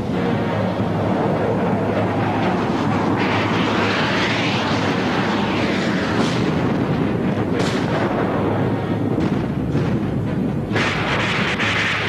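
Heavy Soviet aerial bombing backing a daylight naval assault on the Baltic coast of West Germany in a war film: a loud, continuous roar of aircraft engines and dense rumbling explosions with overlapping blasts and no pauses.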